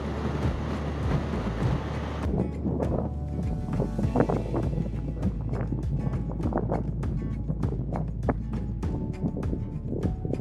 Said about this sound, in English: Ah, that wind.